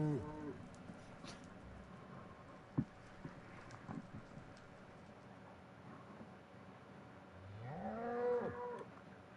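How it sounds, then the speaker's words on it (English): A cow in Minecraft moos a few times, fairly faint against a quiet background, with a longer low moo building near the end. "We got a cow we gotta put somewhere."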